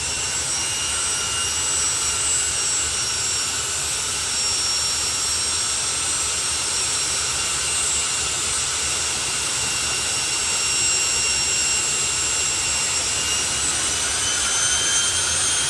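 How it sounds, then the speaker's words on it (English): Jet-powered drag racing cars idle at a drag strip event, a steady loud broadband turbine roar with a high whine holding constant throughout, no talk over it. "our jet cars now prepare to go into the first stage of the entertainment part of what they do"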